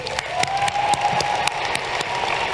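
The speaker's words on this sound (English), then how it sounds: "I think we all deserve a quick round of applause just for making it here" Applause from a crowd at the Westside High School graduation ceremony of 2026: a steady, dense wash of clapping with a faint sustained tone running through it, moderately near and continuous throughout.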